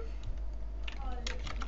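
Keyboard typing on a computer during a software installation, heard as a quick run of light, scattered key clicks over a steady low background hum.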